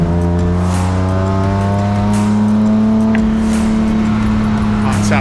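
A BMW race car in a South African M Performance Parts series race at Aldo Scribante holds a loud, steady engine note on track, a sustained whine and drone with faint commentary underneath.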